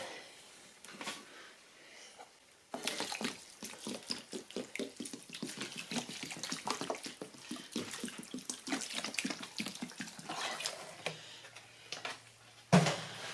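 Water runs and splashes steadily into a basin while relining a road furnace, a quiet, continuous pouring with small ticking clicks at the start and a thump near the end.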